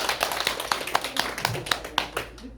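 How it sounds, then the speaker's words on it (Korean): Congregation clapping in welcome during a Sunday morning church service at a Korean church, a close, uneven patter of many hands with distinct sharp claps standing out, moderately loud and continuous. "다시 한번 박수로 환영합니다"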